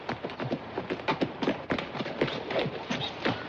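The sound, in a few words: horse trotting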